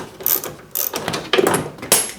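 A hand ratchet loosens a nut on a 1996 Ford F150 pickup, giving four short, close bursts of clicking at a steady rhythm, with no one talking.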